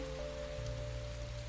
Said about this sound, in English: It's called rain.